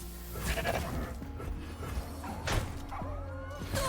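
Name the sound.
goat bleating in a video game card battle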